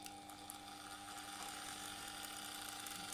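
A Bosch PEX 4000 AE random orbital sander runs at its lowest speed setting, a faint, steady whirring drone with a thin mechanical whine, heard alone and from close by.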